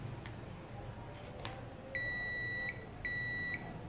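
A multimeter in continuity mode gives two sharp, sustained beeps, each lasting under a second, as its probes touch the winding points of an electric motor. A faint background hum and a few small clicks come before them.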